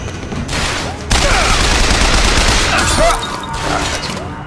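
Sustained automatic machine gun fire in BioShock Infinite, a dense loud burst that starts softer then swells into a continuous rattle of rapid shots with crashing impacts, with a few brief dips.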